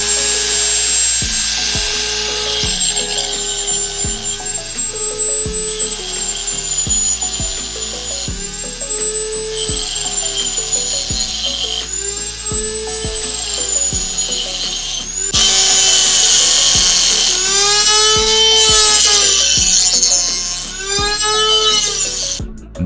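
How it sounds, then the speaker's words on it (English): A rotary tool grinds down an old spark plug, loud and close, with a whining pitch that rises and falls and brief pauses between passes. "Now I'm going to grind this down until it's smooth."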